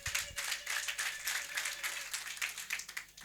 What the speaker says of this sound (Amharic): አጨብጭቡለት ለሱ።